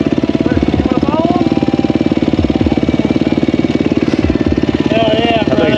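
A KTM 500 motorcycle runs nearby with a loud, choppy single-cylinder thump throughout, a steady rough engine beat with people talking over it.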